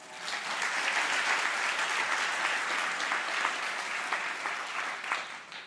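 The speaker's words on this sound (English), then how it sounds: "Cheese always gets a nice round of applause" Applause from a crowd fills the whole stretch, a dense, steady clapping that stays loud and even with no talking.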